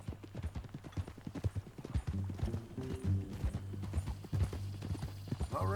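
Horse hooves clop steadily in Red Dead Redemption 2, a close, rhythmic series of hoofbeats over a low musical drone, with an occasional faint whinny.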